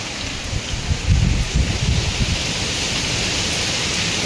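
Strong wind sweeps across hills at Matheran in the early morning with fog rolling in, a steady loud roaring rush with gusty swells at low pitch, no voices.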